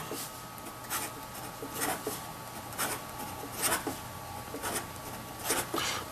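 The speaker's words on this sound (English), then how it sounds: "And so now we'll just do a little bit of quick writing." Quick writing on paper with a Pilot Metropolitan fountain pen, a soft scratchy nib rasp in short bursts of strokes, close and quiet with no talking.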